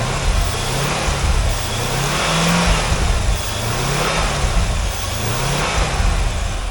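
A 2001 C5 Corvette with a 6-speed manual and 144,000 miles runs steadily up close, its engine rumbling loudly with several rising revs and falls throughout, no talking over it.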